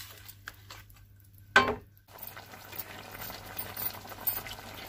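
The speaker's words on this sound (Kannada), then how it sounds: "ಇದನ್ನು ನಾನು ಮುಚ್ಚಿ ಬೇಯಿಸ್ತಾ ಇದ್ದೀನಿ ಜೋರೋರು ಇಟ್ಕೊಂಡು ಕುದಿಸ್ಕೊಳ್ತಾ ಇದ್ದೀನಿ" Okra and lentil curry made with ground tomato and coconut bubbles in a covered pot on high heat, giving a soft, faint simmering patter with a brief louder splash near the start.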